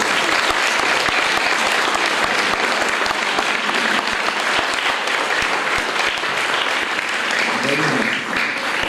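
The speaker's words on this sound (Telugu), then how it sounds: "అందరూ ఒక్కసారి గట్టిగా చప్పట్లు కొట్టాలని" Loud, sustained clapping from an audience at a Children's Day event, a thick burst of many hands with sharp individual claps standing out and a voice briefly audible near the end.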